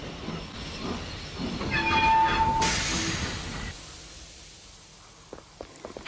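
The Greendale Rocket, a cartoon steam train, runs through snow. It rumbles closer with a sustained horn-like whistle, swells loudest midway, then fades into quieter track noise ending in a few faint clicks.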